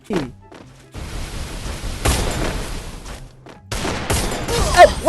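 Gunfire rings out in a shooter video game, with a headshot landing among repeated sharp shots and booming bursts, loud and close with pauses between volleys, under occasional voice.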